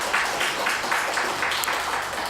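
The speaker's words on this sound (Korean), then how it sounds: "우리 한번 다 같이 한번 격려의 박수 다시 한번 드리겠습니다" A church congregation applauds its choir in a brief round of rhythmic clapping, with the claps falling in a loose regular pulse at moderate loudness and no speech heard.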